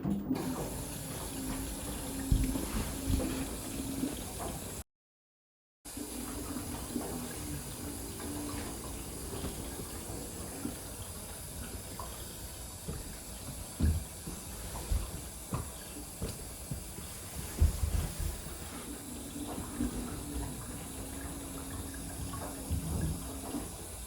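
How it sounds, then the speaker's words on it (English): An LG ThinQ washing machine fills with water on a speed wash cycle right after installation: a steady, moderately loud rush of running water throughout, with faint clunks and a brief dropout partway through. "this is a speed wash to properly test the washing machine immediately after install"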